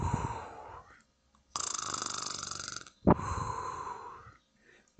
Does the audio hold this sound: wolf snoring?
yes